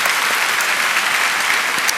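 A church congregation applauds with steady, dense clapping that fills the room evenly and loudly from start to finish, with no talking.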